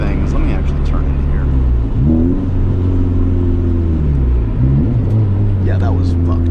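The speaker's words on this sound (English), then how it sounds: "I'm doing a quick blip of the throttle with my right foot" A car engine rises and falls in pitch through quick throttle blips while the driver rev matches on downshifts, a loud close interior drone with steady rumble and overlapping talk.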